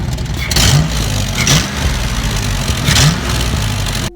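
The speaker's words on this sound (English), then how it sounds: "I've been having some exhaust issues, exhaust leaks." A Foxbody Mustang engine runs close by with leaking exhaust, a steady loud rumble with a few rhythmic surges and puffs, cutting off abruptly at the end.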